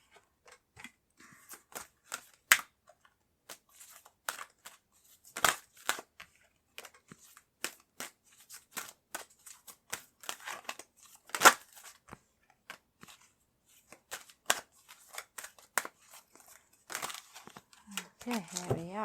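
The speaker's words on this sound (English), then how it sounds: "They take a little longer to shuffle, these ones." Oracle and tarot cards being shuffled, a large deck that handles stiffly, giving a run of dry papery riffles, slaps and crinkles in irregular bursts, close and fairly quiet.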